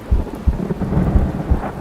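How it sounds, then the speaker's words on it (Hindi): A low rumble of thunder rolls through a steady wash of heavy rain, with deep booming pulses repeating under the continuous hiss of a stormy evening downpour. "लगता था कि तूफान आने वाला है।"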